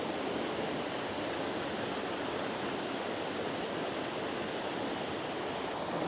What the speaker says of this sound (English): And right now we are going to see the waterfall